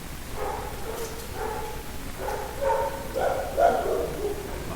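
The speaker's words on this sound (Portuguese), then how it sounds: "Lá vai o cachorro de novo," A dog barks repeatedly in the background, several short bursts that grow a little louder toward the end, heard alongside a teacher's chemistry lecture in Portuguese.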